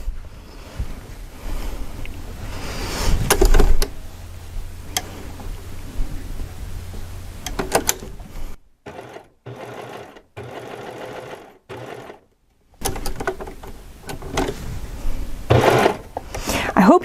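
Serger sewing machine stitching a rolled hem, a fast steady mechanical whir that runs in bursts with brief stops, with a voice talking over parts of it.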